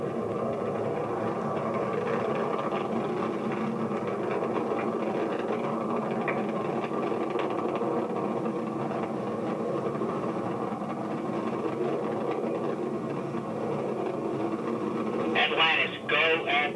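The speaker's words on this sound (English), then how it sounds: "Engines now revving up" Space Shuttle Atlantis main engines on its final launch give a steady, broad, dense rumbling roar that holds level throughout, with a brief brighter crackle near the end.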